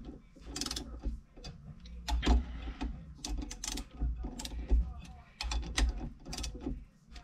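Cylinder head nuts being tightened with a torque wrench, a close, rapid series of ratcheting clicks and metallic mechanical rattles coming in bursts with short pauses between pulls.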